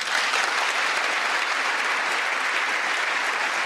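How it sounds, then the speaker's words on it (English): A crowd gives a standing ovation to the king, a dense, continuous wash of loud applause that holds steady throughout. "The No Kings crowd giving a standing ovation to the king"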